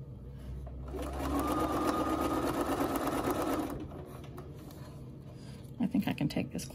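A sewing machine runs in one continuous burst of about three seconds while stitching a crochet panel bag, a loud, steady mechanical whir that then stops, followed by soft handling noises.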